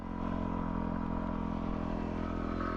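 Motorcycles riding on a gravel road, a loud steady engine drone close by with continuous rumble and no talk.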